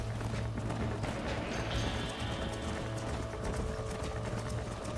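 Horses gallop in Red Dead Redemption, a dense, continuous drumming of hooves mixed with loud rushing game noise at a constant level throughout.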